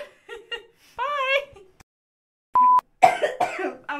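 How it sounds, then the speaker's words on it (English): A woman lets out a laughing cough, short giggly bursts and hacking coughs, with a brief electronic beep in the middle, amid podcast talk in a quiet room. "It was like a laugh cough."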